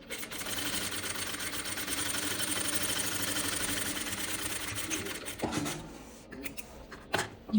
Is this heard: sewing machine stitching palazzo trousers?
yes